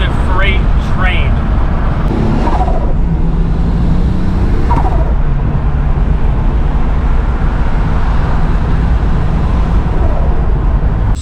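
Turbocharged VR6 wagon under hard acceleration, a loud, sustained engine roar running steadily throughout, with brief higher chirps early on.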